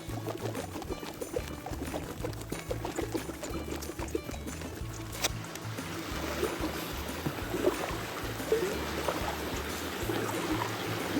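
Overflow water pours into a canal, a steady close rush and trickle that builds slightly louder over time, heard from a kayak with faint paddle and water movement mixed in.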